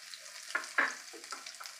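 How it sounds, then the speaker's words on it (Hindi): Grated garlic with cumin and asafoetida fries in a pan, giving a short, close burst of sizzling and a few spatula scrapes with no talking. "इसे हम अच्छे से भूनेंगे।"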